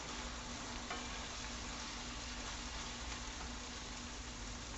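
Philly cheesesteak burger meat topped with cheese sizzles in a pan while it is stirred, giving a dense, even, continuous frying hiss, close and quiet, with no voices.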